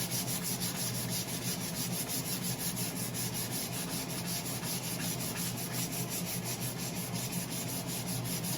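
Steady, close rubbing of sandpaper over a wooden tool handle, a continuous dry abrasive scratch running alone without pause throughout.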